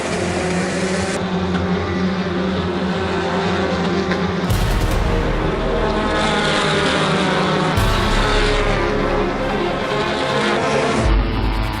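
Formula 4 race cars run at Clark with a loud, continuous engine drone. Several surges and shifts in pitch suggest cars passing in succession over nearly twelve seconds.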